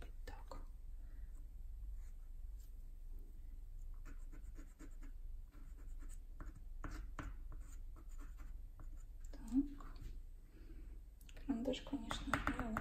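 Dry pastel pencil scratches across paper in a strawberry-in-a-bowl drawing, with soft, irregular strokes and quiet taps, and a voice talks softly now and then.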